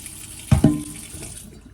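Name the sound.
washing rice under running tap water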